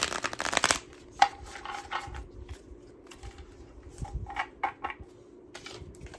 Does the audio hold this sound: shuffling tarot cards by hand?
yes